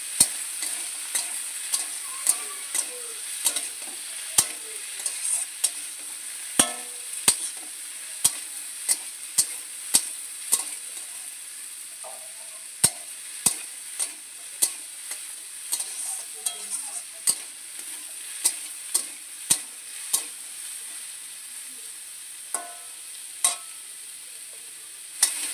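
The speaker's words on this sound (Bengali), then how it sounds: "আলুটা দিয়ে আমি ভালোভাবে নেড়ে দিচ্ছিলাম" Thinly sliced potatoes fry with onions in a pan as they are stirred, giving a steady close sizzle broken by regular sharp scrapes and clicks of the spatula.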